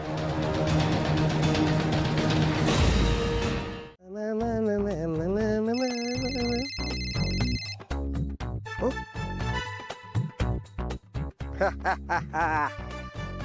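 A phone ringtone plays a bright electronic melody during a Marathi TV serial scene, repeating in short tonal phrases, clear and close after a burst of louder noise at the start.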